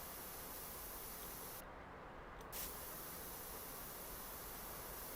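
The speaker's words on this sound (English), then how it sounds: "Just a spray can will do." A spray can hisses steadily as paint goes onto a car in the Car Dealer Simulator game, a continuous loud spray with one short break near the middle before it resumes.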